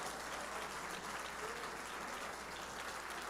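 A church congregation applauds during a sermon, a steady, dense clapping that holds evenly for a few seconds, moderately quiet and slightly distant.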